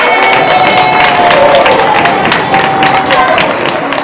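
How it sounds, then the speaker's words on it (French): A crowd claps and cheers loudly at the election of the queen of the Colombes tropical carnival, a dense, continuous wash of applause with shouts and whistles running through it. "Un tonnerre d'applaudissements pour votre mère."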